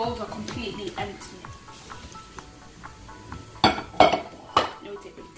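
Dishes and cutlery are carried to a kitchen sink after a pot of egusi soup is cooked. Scattered light clinks build to several sharp, close clatters near the end, with talking around them.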